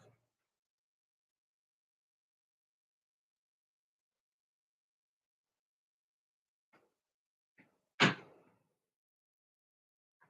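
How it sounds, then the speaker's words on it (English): A bedroom door is shut with a single sharp thud in an otherwise quiet room, preceded by a few faint clicks as it swings closed. "Okay, wait, I'm gonna shut my door."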